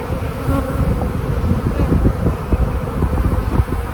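A dense, loud hum of honeybees fills an open hive box, a constant close drone with fluttering wingbeat texture and slight wind rumble underneath.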